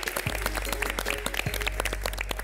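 Steady applause from a studio audience and judges on the MasterChef Türkiye cooking competition set, a dense continuous patter of many hands clapping at close range with a low hum underneath.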